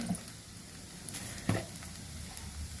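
Okra and potatoes fry together in a pan, making a continuous close sizzle with a few soft stirring knocks, and nobody speaks.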